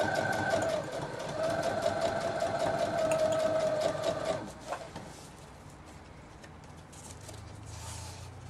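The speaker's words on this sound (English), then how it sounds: "We're just going to do a straight stitch around, and then I'm going to go backwards a bit." A sewing machine runs a straight stitch around a fabric travellers notebook cover, a steady mechanical whirring hum with rapid needle ticking for about four seconds, then stops and leaves soft handling noises and faint background rumble.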